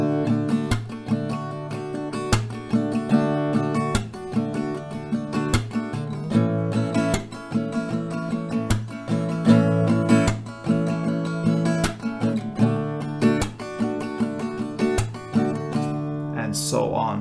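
Acoustic guitar strummed in a steady back-and-forth pattern, two strums per chord, playing a song, chords changing every couple of seconds, close and even in volume throughout.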